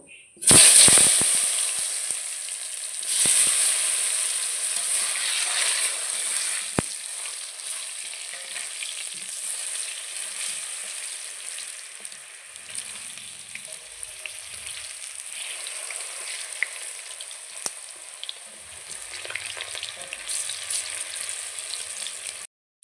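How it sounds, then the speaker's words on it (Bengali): Hot oil in a wok sizzles loudly as potatoes hit it, then settles into a steady crackling fry with occasional pops and soft scrapes. "কড়াইতে তেল গরম হয়ে গেছে, আমি এখন আলু দুটোকে ভেজে নেব"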